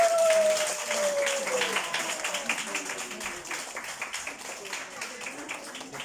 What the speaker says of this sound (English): please give applause to our performers